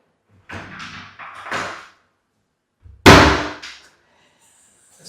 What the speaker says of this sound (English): You got to hit the top of the door.